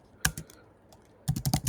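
Quick clicks of computer keyboard typing come close up: one short burst, a pause, then a rapid run of keystrokes.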